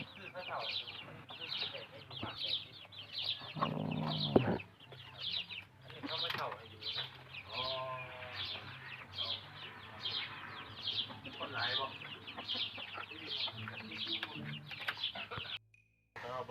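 Chickens clucking at a chicken-raising house on a farm, repeated close clucks and calls scattered throughout while someone talks over them.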